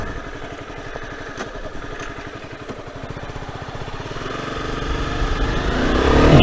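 A Honda CBR250R motorcycle being ridden on a twisty road, its engine note steady and close, then building louder toward the end as it accelerates, with no talk over it.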